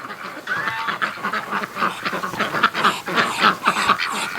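Ducks in a farm barnyard on a freezing spring day honk in a lively, overlapping chorus, loud and close, with repeated nasal calls tumbling over one another for the whole stretch.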